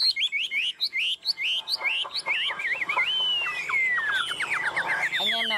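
A caged hwamei songbird sings a loud, close run of rapid whistled phrases, shifting from quick repeated chirps into long sliding, warbling notes that carry on without pause.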